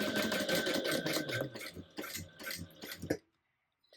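Sewing machine stitching a straight seam on a tote bag, guided by a ruler against the presser foot, in a steady close mechanical whir that runs for about three seconds and then stops abruptly into silence.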